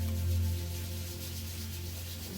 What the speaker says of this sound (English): rub the soles of the feet together, rub the palms of the hands together